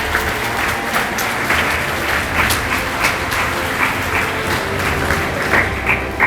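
Sustained applause from a graduation and awards ceremony audience at Iere High School, a dense, steady clapping crowd that holds at an even level throughout with no speech over it.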